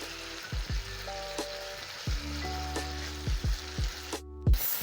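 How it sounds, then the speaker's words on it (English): Beef and spices fry in a pan with a steady loud sizzle, interrupted by close clanks of a utensil stirring against the cookware. "my meat has been cooking up together with the spices"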